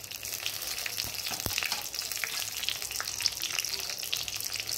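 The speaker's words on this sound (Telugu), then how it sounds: "ఆయిల్ వేసుకున్నాక పోపు దినుసులు అయితే వేసుకోండి. అలాగే ఎండుమిర్చి, ఎల్లిపాయ కూడా వేసుకోండి." Tempering spices, dried red chillies and garlic frying in oil for tomato pappu, a steady close sizzle with light crackling and occasional stirring taps, heard on its own.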